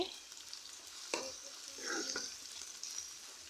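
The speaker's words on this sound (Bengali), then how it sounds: "পেঁয়াজ ভেজে নিচ্ছি এখানে দেখেন পেঁয়াজ গোল্ডেন হওয়া পর্যন্ত পেঁয়াজটা ভেজে নিব" Onions fry in a pan for beef biryani: a soft, steady sizzle runs throughout, fairly quiet, with a sharp spoon-on-pan clack near the middle and a few brief stirring scrapes after it.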